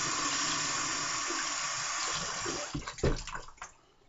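Tap water runs steadily into a sink as a brush is loaded, a continuous close splashing stream that breaks into uneven gurgles and splashes near the end.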